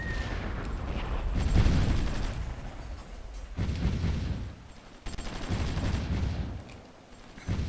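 Distant bombing and gunfire in the Cold War strategy game Supreme Ruler Ultimate, a steady low rumble of muffled blasts and scattered shots that swells and fades in waves, with no talk.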